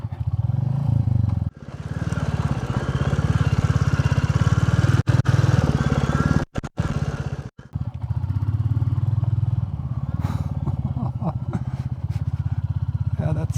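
A brand-new Royal Enfield Classic 350 on standard street tires rides a gravel road, its single-cylinder engine loud and close throughout with scraping and clatter from the loose surface, several brief cutouts midway, and voices talking over it.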